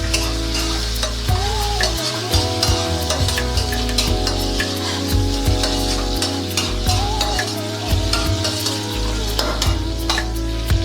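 Dried and green chillies fry in a hot tempering, giving a steady sizzle that is broken up by regular scrapes and clinks of a spoon stirring the pan, close and clear.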